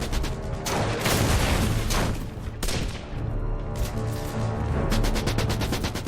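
Sustained German machine gun fire in a WWII battle at a fortified road barricade on Walcheren island, with dense overlapping bursts and booming reports running loud and continuous throughout.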